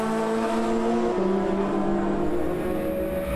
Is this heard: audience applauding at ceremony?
no